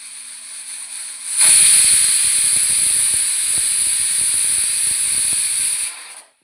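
A pressure cooker whistle, cooking rice, bursts in after a quiet start, a loud, steady high-pitched hiss of steam that holds for several seconds, then cuts off.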